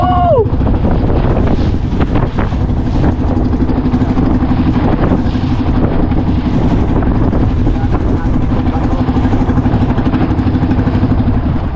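Wind roars across a small boat on rough sea, a loud, constant rush with steady engine drone underneath and a few brief thuds, continuous throughout with no voices.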